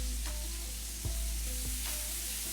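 Teriyaki burger patties frying in a pan, a steady close sizzle with a few soft utensil knocks, no voices.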